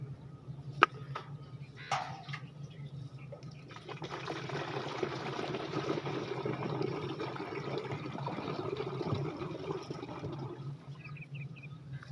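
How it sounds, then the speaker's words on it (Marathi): Water is poured into a farm pump, a steady rushing and splashing fill that starts a few seconds in and continues at moderate level, with a few brief knocks near the start and faint birds in the background. "पंप ठेवून मित्रांनो आता यामध्ये पाणी भरायचं"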